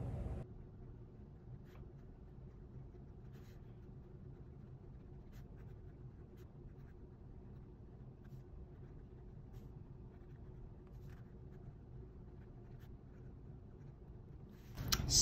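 An Edison Collier fountain pen moves across paper, a faint, steady scratch of the nib running continuously for about fourteen seconds against a quiet low background hum, with no talking.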